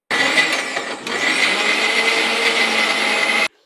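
A blender purees tomato pieces for a face pack, whirring loudly and steadily at close range for about three seconds with a brief dip in pitch near the start before cutting off abruptly.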